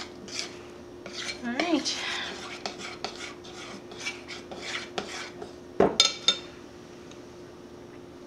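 A utensil scrapes and rubs around a bowl while mixing pink donut glaze to break up the lumps, making a steady, close stirring rasp with a few louder clinks near the end and a brief spoken remark.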